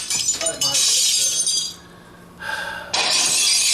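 Pinball machine glass shatters in two loud, bright crashes with scattered tinkling between them, a Gottlieb Haunted House table's playfield glass breaking up close.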